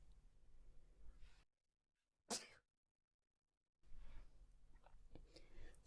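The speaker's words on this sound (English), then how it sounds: "I think I'm going to sneeze." A single sharp sneeze breaks a stretch of near silence, close and abrupt, with quiet room noise and faint handling sounds before and after.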